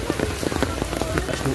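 Steady rain pattering hard on a surface at an outdoor playground in Quezon City Memorial Circle, with scattered heavier drops tapping throughout; loud, close and continuous, no voices.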